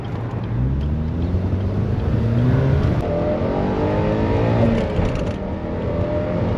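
A Saturn Sky roadster pulls away steadily, its engine note climbing through first gear and then second in a continuous, loud, close drone, with no speech over it.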